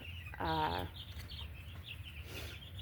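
Young egg chicks of Orpington, barred rock and silver lace Wyandotte breeds give one short, clear clucking call, followed by faint cheeping and low background hum in an indoor brooder.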